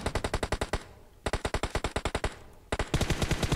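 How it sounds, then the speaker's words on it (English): Video game gunfire in three rapid automatic bursts, each a fast, even string of loud, close shots with brief pauses between; no talking. "what the fuck are you guys shooting"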